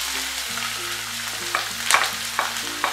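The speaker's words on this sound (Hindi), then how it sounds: "अब इसमें सब बारीक कटी हुई सब्जियां हम डाल देंगे।" Finely chopped vegetables including French beans and carrot fry in a pan for Schezwan fried rice, a loud continuous sizzle with occasional stirring scrapes and clatters, close by with no voices.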